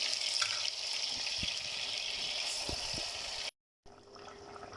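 Water is poured steadily into a hot pan of frying beef meatballs, making a continuous hissing rush at close range with a few small knocks, then breaking off briefly.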